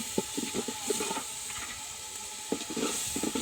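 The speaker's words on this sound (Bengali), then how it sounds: "এই যে আমরা মশলাটা কষাচ্ছি" Spice masala for North Bengal potato dal fries in a pan while being stirred, a close steady hiss and sizzle broken by repeated scraping strokes.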